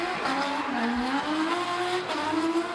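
Pro-Sport drift car at D1NZ Round 1 in Tauranga sweeping into the wall ride down the front straight, engine note climbing and wavering with continuous tyre squeal, loud and sustained without pause.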